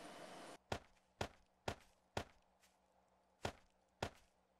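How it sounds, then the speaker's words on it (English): Footsteps in the 7 Days to Die video game: six sharp, evenly spaced thuds after a brief burst of noise, moderately loud over a low steady hum. "Yeah, I hear footsteps."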